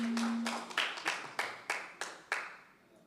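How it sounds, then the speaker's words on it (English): Audience clapping at an exchange program event, a sparse run of about eight sharp, evenly spaced claps in a reverberant room, each ringing briefly before the next. "Can you clap for Madam Abiba?"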